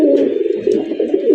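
Rajgolla pigeons, a red breeding pair, coo steadily and close by in a continuous low murmuring run with no talk.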